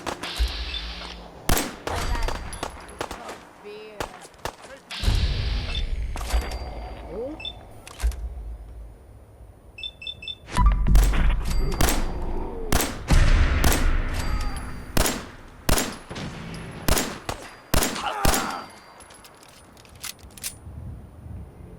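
Gunfire in the video game Fallout 4, a rapid run of sharp, loud shots and bursts, some clustered into quick volleys, with clanking impacts and game sounds between them.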